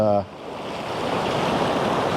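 Sea water washing in over a shore during a landscape photography shoot, a steady broadband rush of surf that rises quickly after a brief moment and holds constant and fairly close.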